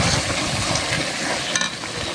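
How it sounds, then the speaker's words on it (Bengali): Radhuni haleem spice mix fries with meat in a pot, giving a dense, loud, continuous sizzle with faint scraping from stirring and no talk. "এখন দিয়ে দেব রাঁধুনি হালিম মিক্সের মশলাগুলো দিয়ে দেব। দিয়ে এটা কষিয়ে নিয়েছি একটু।"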